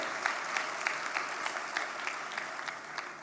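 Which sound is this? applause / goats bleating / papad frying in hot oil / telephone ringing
applause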